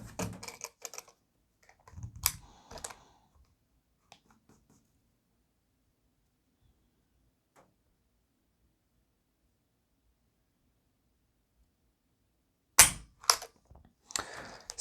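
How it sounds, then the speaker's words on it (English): A Taurus G3 pistol's trigger is pulled against a trigger pull gauge, producing crisp mechanical clicks and light handling rattles in two brief clusters separated by a long stretch of near silence. "I'm going to grab one more pull on this here."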